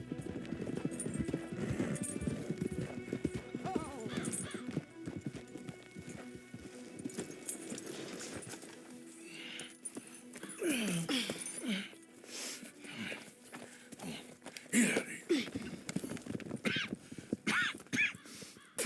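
Horse hooves clip-clop steadily in the Red Dead Redemption 2 video game, with a whinny and crow caws mixed in over an outdoor game soundscape.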